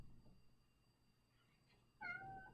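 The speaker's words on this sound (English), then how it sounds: "My cat is scratching my door." A cat at a door gives one clear, fairly loud meow near the end, after a stretch of quiet room hum with faint shuffling.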